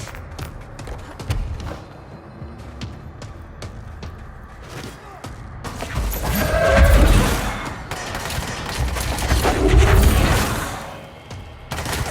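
Rapid gunfire from the action game Control, bursts of shots and thumping impacts that swell into two loud, dense peaks of combat noise, with no speech over them.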